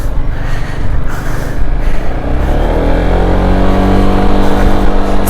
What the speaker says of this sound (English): it's whisper quiet, as a scooter should be